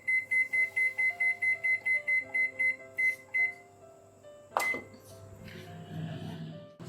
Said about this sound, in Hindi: अब हम ओवन को प्रीहीट होने के लिए रख देंगे।